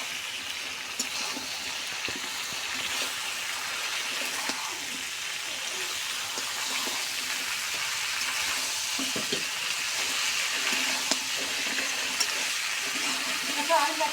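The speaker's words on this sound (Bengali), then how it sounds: "আমি মশলার সাথে সুন্দর করে কষে নিচ্ছি" Vegetables sizzle and fry in oily spice masala in a home kitchen, a steady crackling hiss with occasional scraping clicks of stirring, continuous and close throughout.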